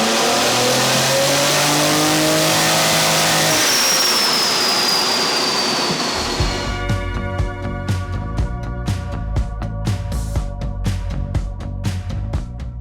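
A supercharged Holden Commodore SV6 engine holds a loud, rising rev with supercharger whine, then drops into a choppy idle of rapid, sputtering pulses that carry on steadily to the end, close-miked with no talk.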